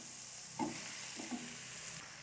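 Chicken pieces in ginger garlic paste fry over a medium flame, a quiet steady sizzle with a couple of soft stirring scrapes.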